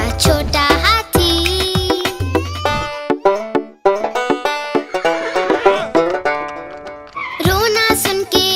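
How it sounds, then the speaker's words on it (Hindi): A horse neighs repeatedly in a Hindi nursery rhyme, loud whinnies mixed with musical backing and clip-clop hoofbeats, clear and up front with no speech. "रोना सुन के घोड़ा आया, साथ में अपने वो गाड़ी लाया।"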